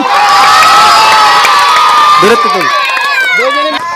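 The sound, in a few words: crowd applauding and cheering at village game prize-giving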